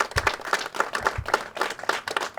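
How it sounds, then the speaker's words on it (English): A small crowd at the Long Beach marina ribbon cutting claps for the harbor masters, a close, uneven patter of individual hand claps that pulses irregularly rather than swelling into a full roar. "I want to give them a big round of applause"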